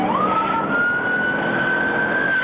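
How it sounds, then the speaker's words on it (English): A police car siren wails in a single rising tone that holds high and steady, close and continuous over low road rumble. "and then sped off as Deputy McGuigan activated his lights and siren."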